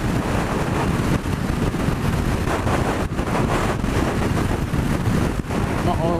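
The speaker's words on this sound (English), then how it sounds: "it's really windy, it's blowing me across the road" Strong wind buffets the microphone in heavy, roaring gusts during a BMW F750GS motorcycle ride, loud and continuous with rough bursts throughout.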